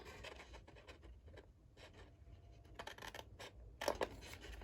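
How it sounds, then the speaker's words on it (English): Scissors snip close by, cutting paper card stock into little triangles for a slim line card box, with a run of short, dry cuts and rasps in irregular bursts and no voices. "I'm cutting out like little triangles"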